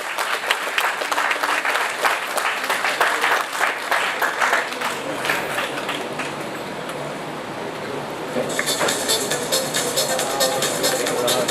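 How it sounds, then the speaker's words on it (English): Audience applause fills an award ceremony for the Fairway National Literary Awards, a dense, sustained roll of clapping that stays loud throughout, with crowd murmur mixed in and a brighter, crisper burst of claps near the end. "give them a round of applause"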